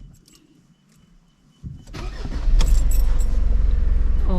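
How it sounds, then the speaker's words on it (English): A car engine that had overheated is restarted: quiet rustling and a key jingle, then the starter catches and the engine settles into a loud, steady idle close by. "let's have a go at restarting the engine"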